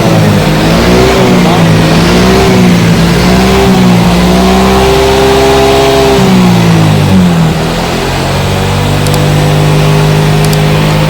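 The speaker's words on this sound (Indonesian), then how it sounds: "Motor sudah hidup kembali." A Yamaha Mio GT scooter engine runs again after repair of a no-start fault. It is loud and close, revving up and down in repeated swells before settling to a steadier idle.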